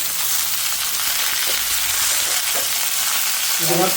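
Mixed vegetables and broccoli dropped into hot spiced oil, giving a loud, dense, continuous sizzle close up, with a faint voice near the end.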